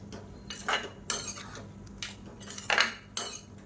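Meal maker curry stirred in a pan with egg, producing several distinct scrapes and clinks of a utensil against the pan at an uneven pace, fairly quiet with no talk.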